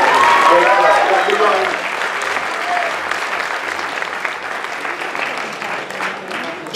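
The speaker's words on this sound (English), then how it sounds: "Give these girls a big round of applause." Audience applause at a dance competition for a toned class of girls, loud and sustained at first then gradually thinning, with voices talking over it.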